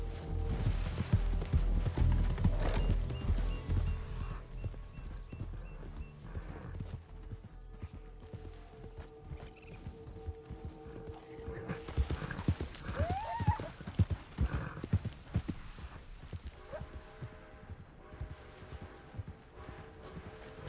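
Horse hooves clip-clopping in the video game Red Dead Online, a steady close rhythm of hoofbeats running throughout with occasional snorts or a whinny and creaking tack, the pace varying over time.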